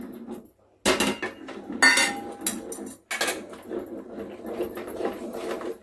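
Basmati rice flour tipped into a pot of boiling water over low heat, with bright metallic clanks and scrapes of a utensil against the pot in short bursts between quiet gaps, close and fairly soft.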